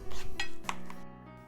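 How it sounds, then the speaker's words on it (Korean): Dishes and utensils clink as almond gochujang is served onto a plate in a kitchen, a few sharp ceramic and metal knocks close by, then quiet. "접시에 먹을 만큼 덜어놓을게요."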